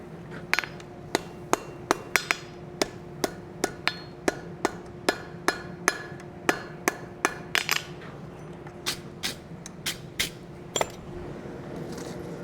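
A hammer strikes hot steel on an anvil for a Russian rose, delivering sharp ringing blows close by in a steady rhythm of about two per second, with brief pauses between strikes.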